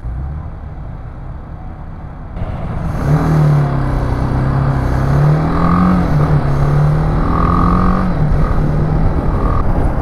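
A BMW G310GS motorcycle ridden through city traffic: a steady close engine drone that rises as the bike pulls away, then holds a wavering revving hum with shifting pitch and wind rush, with no talking.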